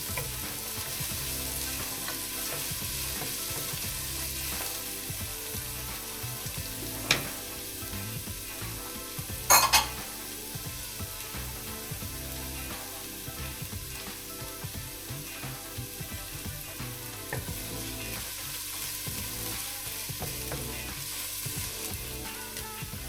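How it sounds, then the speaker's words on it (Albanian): Onion frying in oil in a pan, a steady low sizzle running throughout with a few brief clinks and a sharper clatter near the middle; no talking. "Skuqim pak qepën me vajin."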